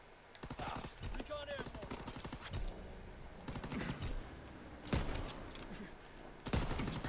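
Rapid bursts of gunfire from a shooter video game, dense crackling volleys with a few sharp louder shots standing out, fairly quiet overall.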